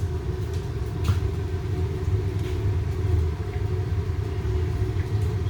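Rocket-style waste oil burner heater turned up to a high oil flow, giving off a constant deep roaring rumble with a few faint clicks and ticks over it.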